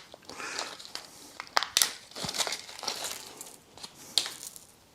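A plastic pack of nuts and bolts is handled up close, giving crinkling, rustling plastic with small metallic clicks and rattles scattered unevenly through it.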